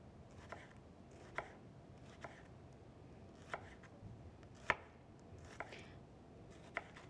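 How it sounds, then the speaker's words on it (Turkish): A knife taps steadily on a cutting board, chopping onion in evenly spaced strokes, close and fairly quiet with one sharper hit midway. "Ben de o sırada soğanımı doğrayacağım."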